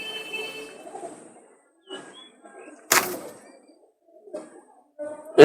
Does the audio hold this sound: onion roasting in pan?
no